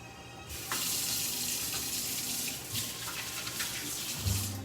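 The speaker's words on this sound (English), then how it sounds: "Let me wash my hands." A kitchen tap runs at a sink while hands are washed beneath it, a soft steady stream of water with faint splashes and a small knock near the end.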